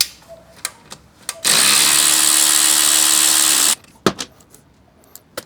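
A power tool fitted with a 10mm socket spins up loud and close for about two seconds, removing the shock bolt on a Triumph Bonneville motorcycle's swing arm, with clanks and tool handling noises before and after.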